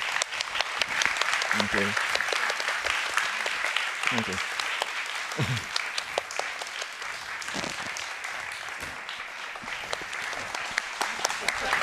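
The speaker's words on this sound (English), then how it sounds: "please join me in giving them all a round of applause" Audience applause at a summit's concluding remarks fills the room, a steady wash of clapping that carries on throughout while a person speaks briefly over it.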